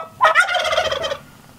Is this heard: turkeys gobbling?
yes